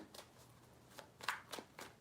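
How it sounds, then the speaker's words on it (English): Soft, close riffling of a tarot deck, a few quick shuffling bursts in an otherwise quiet room. "Three shuffles for Capricorn."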